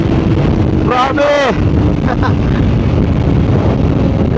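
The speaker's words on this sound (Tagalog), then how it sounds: "Lakas ng hangin ah." Strong wind roars over the microphone of a Kawasaki Ninja ZX-25R at speed, a loud constant rush, with a short stretch of the rider's voice under the buffeting.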